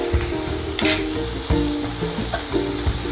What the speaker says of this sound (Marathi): आपला मसाला झालेला आहे रेडी मस्त तेल सुटलेलं आहे